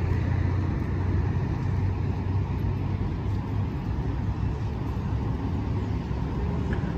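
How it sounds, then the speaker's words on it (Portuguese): A Viação Salutares coach, a Marcopolo Paradiso 1350 on a Mercedes-Benz O500 RSD chassis, rumbles at the Tietê bus terminal in São Paulo, a steady low engine drone with traffic noise around it and no talking. "Carro a serviço da viação Salutares."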